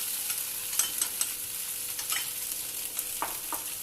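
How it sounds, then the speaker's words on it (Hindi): A spoon stirs cornflour mixture in a pot over the stove, giving quick scraping strokes and light clicks over a constant soft hiss, with no talking. "जल्दी से चम्मच चलाना है ताकि ये जल्दी से थिक हो जाता है"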